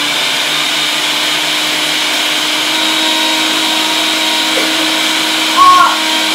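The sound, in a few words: blender blending chili and Tabasco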